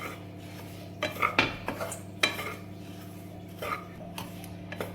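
Metal spoon scraping and clinking against a pan while gujiya filling is stirred and roasted, scattered sharp knocks over a quiet, steady background.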